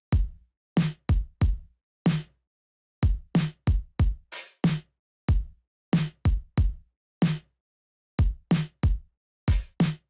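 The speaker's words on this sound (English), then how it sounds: "So the song started with this drum sound from Prism." Punchy electronic drum hits play alone in a syncopated pattern, sharp kicks and snappy strikes in short clustered bursts separated by silent gaps.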